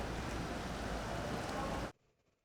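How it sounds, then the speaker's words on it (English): Rain in Havana pours in a loud, steady broadband hiss that cuts off abruptly near the end, leaving near silence. "I have to wait here for the rain to stop."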